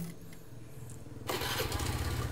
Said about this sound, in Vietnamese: bây giờ máy nổ khởi động lên thì tiếng ga lăng ti nghe rất chi